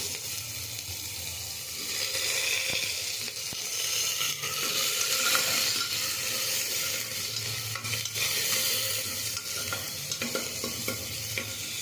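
Potatoes and carrots frying in a mutton soup pot, a continuous sizzle with repeated spoon stirring and scraping against the pot, and some watery splashing, close and steady throughout with no voices.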